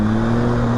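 A 1000 cc motorcycle engine holds a loud, steady droning hum with a strong low tone, heard close and alone for under a second.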